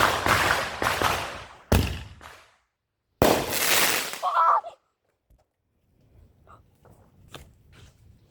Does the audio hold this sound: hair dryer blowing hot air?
no